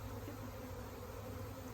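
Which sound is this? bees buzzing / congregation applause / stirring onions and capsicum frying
bees buzzing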